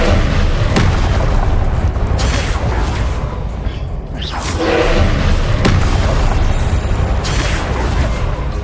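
The Confringo fire spell explodes in Hogwarts Legacy: loud, dense combat noise with several heavy booming blasts spaced every second or two, over continuous rumbling battle din.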